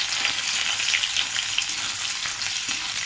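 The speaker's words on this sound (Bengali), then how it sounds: "প্রথমে থেতো করা রসুনটা দিয়ে দেবো" Crushed garlic frying in a hot pan gives a steady, close, dense sizzle with faint stirring clicks throughout, no voices.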